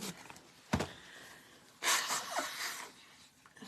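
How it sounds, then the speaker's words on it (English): A person blowing their nose indoors, a short sharp burst followed by a longer breathy honk, quiet and close, with no talking. "I need to blow my nose again."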